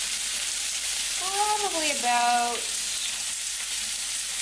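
Potatoes fry in a pan with whole mustard seed added, a steady broadband sizzle running throughout, close and fairly loud, while a voice briefly speaks over it.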